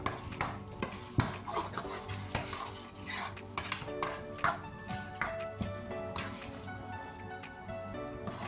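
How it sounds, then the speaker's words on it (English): A spoon scrapes and clatters around a pan as vegetables coated in basil, butter beans and chopped tomatoes are stirred, giving repeated soft knocks and scraping at a steady rhythm, fairly quiet and close. "You give that a good mix until all the vegetables are coated in the basil"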